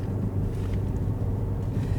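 A 2025 Ford Focus ST hot hatch drives slowly while turning around, a low steady engine rumble with some wind buffeting on the microphone and no talking.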